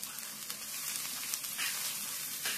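Ridge gourd fry sizzling in a pan with salt, turmeric and chilli powder while being stirred, a steady hissing crackle with occasional scraping from the spoon.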